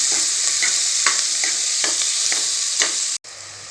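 Onions fry in hot oil until brown for egg biryani, giving a steady close sizzle broken by regular scraping stirs, then cutting off abruptly near the end.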